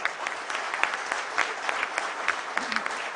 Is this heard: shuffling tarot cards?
no